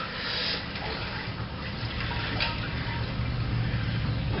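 Water draining steadily from a brew-in-a-bag beer kettle on a home brew day, a continuous loud splashing trickle with small surges, no voices.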